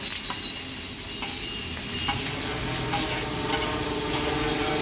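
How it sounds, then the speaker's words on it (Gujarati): Onion and cabbage sautéing in a pan for homemade pizza topping, with a steady loud sizzle throughout and occasional soft scrapes of a stirring utensil, close up. "ડુંગળી ને કોબી સોતળી નાખવાનું છે"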